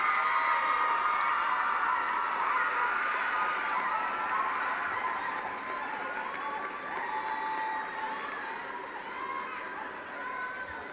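Sustained applause from a large audience at a high school commencement ceremony, dense clapping that holds steady and slowly fades over about eleven seconds, heard from within the crowd.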